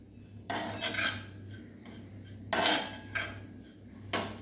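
A spoon stirring sweet modak filling in a pan, producing several distinct scraping sweeps and clinks against the metal in an irregular rhythm, close and clear over a low hum, with nobody speaking.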